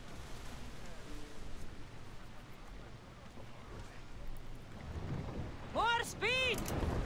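A storm at sea in Assassin's Creed Odyssey, with continuous rain and wind noise and a deeper swell building toward the end, where a voice briefly speaks over it.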